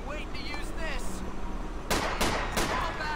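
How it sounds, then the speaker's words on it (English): Two or three sharp cracks of a BB gun ring out one after another in GTA IV with the LCPDFR police mod, loud over a snowy British street scene with a Met Police BMW E61 nearby; voices and engine hum beforehand. "Someone's firing a BB gun."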